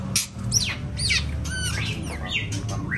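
A caged murai (magpie-robin) bred for sale gives loud, varied squawks and sweeping whistled calls in quick succession, close to the microphone over a low steady background hum.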